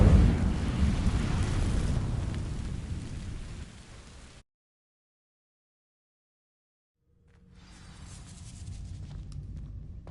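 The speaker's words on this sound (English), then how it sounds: "Incendio!" A fire spell cast in Hogwarts Legacy setting dry vines alight: a loud rushing, crackling whoosh of flame that fades out into silence, then a softer crackling burn returning after the pause.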